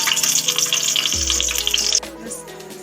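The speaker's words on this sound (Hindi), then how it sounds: "इस गरम मसाले को अच्छे से हम इसमें फ्राई कर लेंगे" Whole garam masala, cinnamon, cloves, black cardamom and star anise, frying in hot oil in a pan, a steady close sizzle that crackles and shifts as the spices settle, with a low hum underneath.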